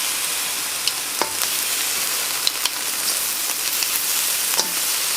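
Chaiya vegetables stir-fried with egg, oyster sauce and a little stock in a pan, giving a loud continuous sizzle with scattered clicks of the spatula stirring.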